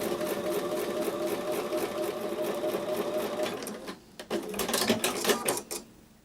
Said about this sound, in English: So I'm going to take these over to the sewing machine and sew with a 1/4 inch seam.